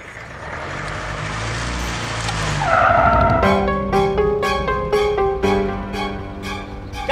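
A car skids to a halt in front of someone on a road, its tyres screeching loudly for a few seconds. A burst of repeated horn honks follows, close and insistent.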